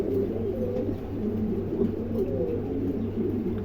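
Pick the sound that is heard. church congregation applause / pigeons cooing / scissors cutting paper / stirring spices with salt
pigeons cooing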